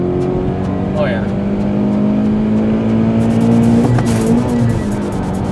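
A Toyota 86 fitted with a Perrin inlet tube accelerates hard with a loud, steady engine drone inside the cabin, and the pitch wavers briefly as a gear is nearly missed.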